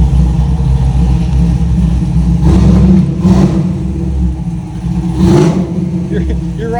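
A 1968 Chevelle with a cammed 5.3L engine revving hard at wide-open throttle on a road drive. A loud, deep, continuous roar surges upward through repeated climbs in RPM.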